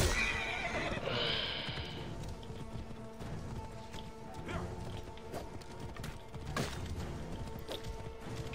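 A horse neighs and whinnies loudly near the start in the game Assassin's Creed Origins, followed by hoofbeats and clattering game noise over a busy, continuous battle background.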